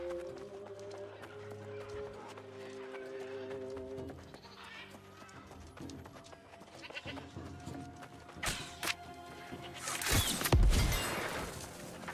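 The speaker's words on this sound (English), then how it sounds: "I heard a goat." Goat bleating in the video game New World: Aeternum, a wavering bleat over game ambience and hoofbeat-like clip-clop, followed by louder bursts of noise near the end.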